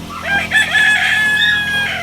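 A gamecock from Mindoro in a backyard breeding yard crows loudly and close, one drawn-out rising and falling cock-a-doodle-doo over a low farmyard hum.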